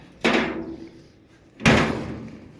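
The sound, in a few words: door of 1929 Chrysler opening and closing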